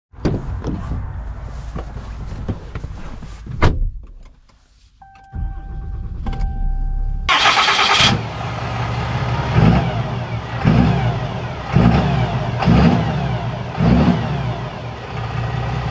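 A 2021 Ram 3500 Big Horn dually pickup with a Cummins diesel cranks over after some cabin clicks, then settles into a loud, close diesel rumble that swells in repeated revving surges as it pulls away.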